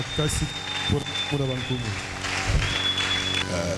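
A church congregation applauds steadily through a sermon service in a dense, continuous wash of clapping, mixed with music and voices throughout.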